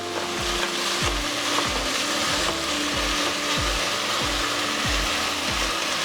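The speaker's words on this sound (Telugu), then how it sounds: "కొద్దిగా అది ఫ్రై అయ్యే వరకు మనం వేసుకోవాలి" Food frying steadily in a pan for coconut milk pulao, a dense close sizzle running throughout with regular low knocks and scrapes from stirring, no voices.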